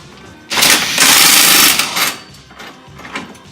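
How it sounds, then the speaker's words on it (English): An impact wrench removes a seat belt retractor nut while Simpson D3 harnesses are installed in a garage, giving one loud rattling burst of about a second and a half followed by shorter quieter buzzes. "Helps to have an impact where the ratchet will work. Just makes it quicker."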